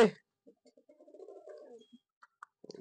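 Lakka fantail pigeons on a rooftop coo in a soft, rolling burst of low calls, with a few wing or scuffle sounds and brief voice fragments at the start and end.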